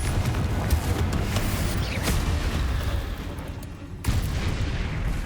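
A Confringo fire-blast spell bursts in Hogwarts Legacy amid dense, continuous battle noise, with a sharp crack near two seconds and another surge after four, loud and busy throughout.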